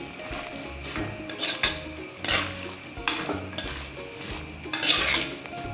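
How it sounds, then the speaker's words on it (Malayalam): A spoon stirring Kerala koottu curry with salt in a metal pot: repeated clinks and scrapes of metal against the pot, in irregular bursts over a quiet kitchen background. "ലേശം ഉപ്പും കൂടി ഇനി നമുക്കൊന്ന് ഇളക്കി കൊടുക്കാം."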